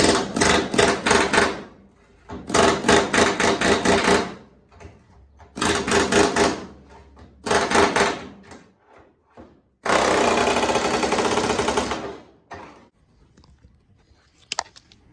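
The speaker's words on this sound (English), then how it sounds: "the old trusty air hammer white chisel bit technique seems to work pretty good" Bursts of rapid pneumatic hammering from an air chisel breaking spot welds on a 1968 car's wheel well, several loud rattling runs separated by short pauses, with metallic clanks between them.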